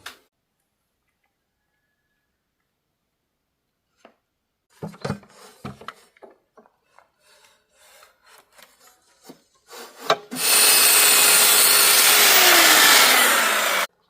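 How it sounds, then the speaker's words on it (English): Circular saw cutting wood during a cottage kitchen wall build, preceded by scattered knocks and handling clatter, then a loud, sustained close-up whine and rasp that rises sharply and holds steady to the end. "Straight cuts every time with your circular saw"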